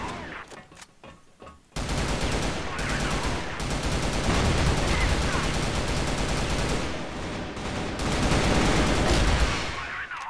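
RPK machine gun in the video game Crossfire, firing in long, dense sustained bursts after a few opening shots, loud and close, with layered gunfire from other players filling the background.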